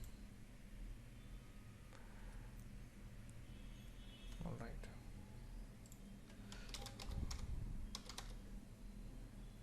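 Keys tapped on a computer keyboard while a service name is typed in, a quiet scatter of soft clicks with a busier burst partway through, faint under low background noise.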